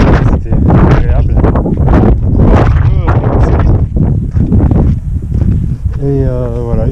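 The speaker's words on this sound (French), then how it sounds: "il y a toujours énormément de vent" Strong wind buffets the microphone on an outdoor trail during an ultra running race, a loud, gusty rumble that never lets up while a person speaks over it.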